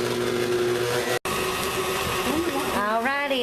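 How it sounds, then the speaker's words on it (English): An electric mixer whirring loudly and steadily close by through cinnamon roll cake batter made with brown sugar and cinnamon, cutting out for an instant, then its motor pitch wavering and rising near the end. "now I'm going to turn this on and let it mix real good for 4 to 5 minutes."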